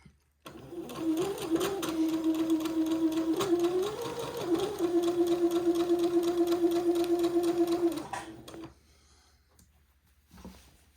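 Sewing machine running a basting thread along a doll dress, a steady humming whir with rapid needle rhythm lasting about eight seconds, pitch shifting slightly as speed changes, then stopping, followed by a faint click.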